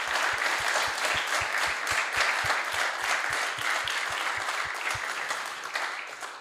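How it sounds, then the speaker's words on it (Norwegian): An audience applauds the musicians at a church Christmas concert, a full hall of steady clapping with a strong rhythmic unison beat running through most of it before it thins slightly at the end. "skal vi gi dem en ekstra applaus"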